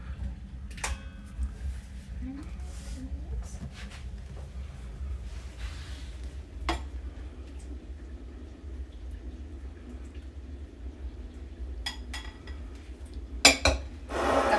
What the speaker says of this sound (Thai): เราก็จะมาตีส่วนผสมของไข่แดงกันนะคะทุกคน